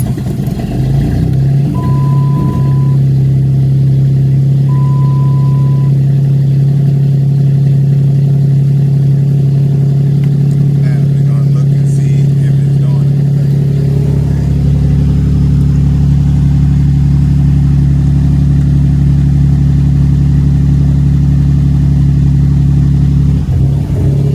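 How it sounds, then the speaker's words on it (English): A 2005 Dodge engine fitted with a Thorton tuning chip runs at a loud, steady idle, a constant low drone that drops slightly in pitch partway through, with two brief chime tones early and no talk. "start the car"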